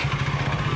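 Honda Scoopy 130cc scooter in touring setup, fitted with its stock starter motor, with the engine catching and running as a steady, close, low mechanical hum with a slight pulsing rhythm.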